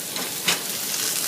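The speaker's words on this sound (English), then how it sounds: "You want to hear that good sizzle there, because that lets you know the steak is going to sear and not boil." A steak sears in hot oil in a pan, giving a steady, close hiss of sizzling with a brief louder crackle partway through.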